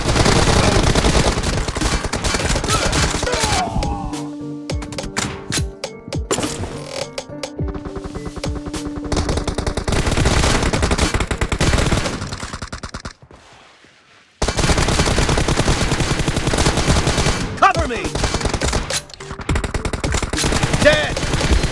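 Dense bursts of automatic gunfire rattle almost nonstop in a Battlegrounds Mobile India team deathmatch, loud and close, broken by one brief lull before the firing resumes, with game voice callouts mixed in.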